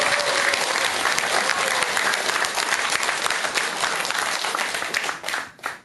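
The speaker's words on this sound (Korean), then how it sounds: "와 박수 한번 치세요" A crowd breaks into loud, sustained applause that fades out near the end.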